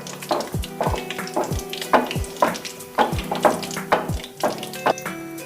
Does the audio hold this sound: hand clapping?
no